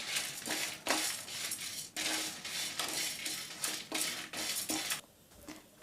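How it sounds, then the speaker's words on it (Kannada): Grated coconut is lightly fried in a pan with the flame off, heard as quiet scraping and stirring with soft metallic clinks in uneven bursts. "ಇವಾಗ ಫ್ಲೇಮ್ನ ಆಫ್ ಮಾಡಿಕೊಂಡು ಕೊಬ್ಬರಿ ತುರಿನ ಸೇರಿಸ್ಕೊಳ್ಳೋಣ. ಇವಾಗ ಲೈಟಾಗಿ ಫ್ರೈ ಮಾಡ್ಕೊಳ್ಳಿ."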